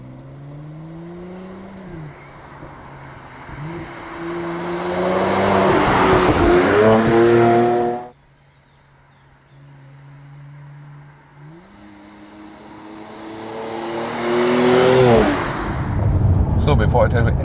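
Mercedes-AMG C43 with a classic-layout engine pulls hard at full throttle, revs climbing through several loud upshifts, briefly backing off around the middle before flooring it again; a voice talks over parts of the run.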